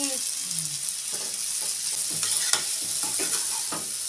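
Pasta frying in a masala in a pan is stirred steadily, with scraping strokes over a constant bright sizzle, close and alone without talk.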